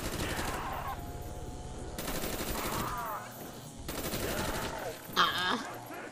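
Sustained machine gun fire in Call of Duty Zombies comes in long rapid bursts separated by brief pauses, loud and dense, with a sharper hit near the end.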